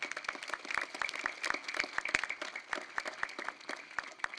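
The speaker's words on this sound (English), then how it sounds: "please give them all a round of applause" An outdoor crowd at a Veterans Day ceremony in Arlington breaks into steady, moderately loud applause, many hands clapping in a dense patter that holds for several seconds.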